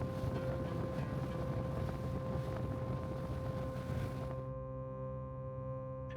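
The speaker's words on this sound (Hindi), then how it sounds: "नाव धीरे धीरे पानी की लहरों को काटते हुए आगे बढ़ रही थी" Boat cruising on the Gulf of Oman near the Dimaniyat Islands, a steady loud roar of engine, water and wind with a constant hum, cutting off abruptly near the end.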